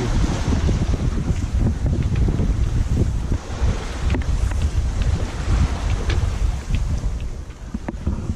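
Sailboat under way at six knots: a steady rush of water along the hull and rolling wash, with heavy wind buffeting the microphone and occasional creaks and knocks, close and continuous with no talking.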